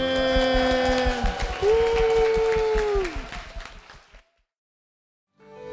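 A church congregation applauds beneath sustained music tones, the clapping fading out after about four seconds into silence before another sound begins.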